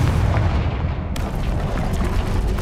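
A Confringo blasting spell from Hogwarts Legacy on PS5 bursts into a loud, dense explosion, a heavy rumbling boom that fills the whole stretch without pause.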